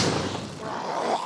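A spore explosion bursts in the video game Dungeoneers, a dense, thumping blast that fills the moment and rumbles on briefly before fading.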